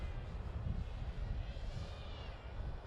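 Electric motors of an E-Flite P-51 model airplane in flight give a steady, continuous droning whine that holds at an even level with no talking.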